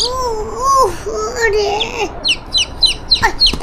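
A chicken sits close by, giving short bright clucks and chirps in the second half, after a voice speaks over the opening.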